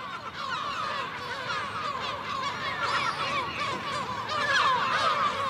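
Gulls call at a breeding colony in a city during the breeding season, a dense, continuous chorus of overlapping squawks and wails of many birds, loud and steady throughout.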